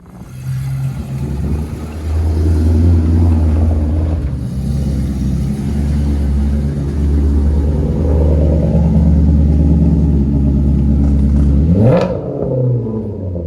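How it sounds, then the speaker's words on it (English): An exotic car arrives at a house, its engine rumbling loudly and steadily at close range, building through revs before a sharp rising rev near the end, with no talking. "Oh, that was quite an entrance, Elliott."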